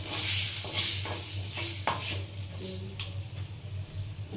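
Golden frying in a pan of mango dal ingredients, with a steady close sizzle broken by scraping stirs and soft clinks of a spatula, no voices.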